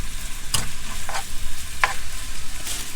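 Minced beef and onion fry in a hot pan with a loud, close sizzle. A few sharp stirring scrapes cut through the steady hiss of the short burst.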